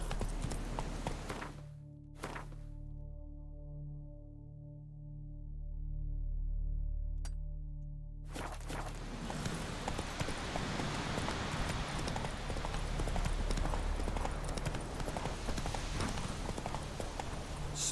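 Horse hooves clip-clopping at a gallop in The Witcher, a steady rhythmic pounding that starts after a brief quiet stretch and continues loudly to the end.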